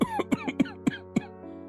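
A sick, weakened elderly man coughs in a rapid run of about six short, harsh bursts close up, the last one trailing off into a breathy fade.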